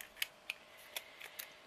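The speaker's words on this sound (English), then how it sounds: "I might do it better with scissors actually." Scissors snip through paper while a handmade book is being crafted. About seven quiet, crisp cuts fall in a quick, slightly uneven rhythm, close by and alone.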